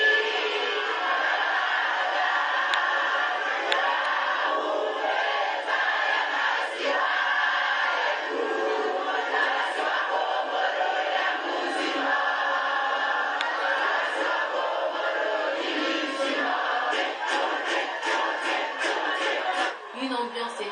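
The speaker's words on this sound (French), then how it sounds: "les acclamations, l'hymne national ont été au rendez-vous" A crowd of supporters cheers and shouts as the Comoros national football team arrives at an airport, a continuous band-limited roar with chanting and clapping, a commentator's voice running over it.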